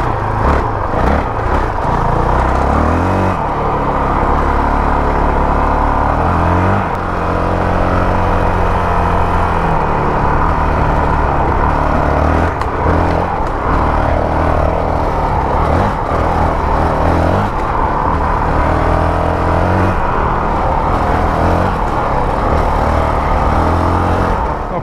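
A Honda CRF450L motorcycle fitted with a power-up kit accelerates and revs steadily, its loud engine droning close up through shifting pitch for the whole stretch, with no voices over it.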